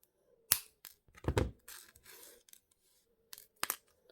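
Jewellery wire for a pair of earrings is snipped with cutters at close range: a few sharp, crisp clicks scattered among quiet rustling handling noises, with no voices.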